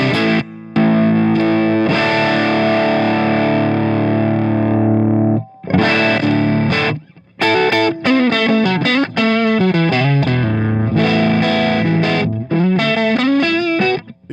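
An electric guitar played through a distorted amp plugin in Logic Pro X with the gain raised, loud sustained chords and single-note phrases with brief gaps between them, heard alone.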